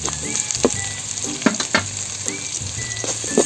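Garlic and onion sautéing in a frying pan for binagoongang bangus, steady close sizzle with intermittent scrapes and stirring knocks of a utensil against the pan.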